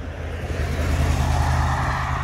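Car traffic on a busy road in Vogelwaarde, Zeeland, a loud steady engine and tyre rumble from a vehicle passing close by, continuous with no break.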